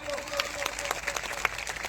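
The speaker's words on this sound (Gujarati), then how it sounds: "અહીં ઉભેલા પોલીસ જવાનો માટે એકવાર જોરદાર તાળીઓ પાડી લો" A political rally crowd applauds for police officers, a brief spell of dense, moderately loud clapping with voices mixed in.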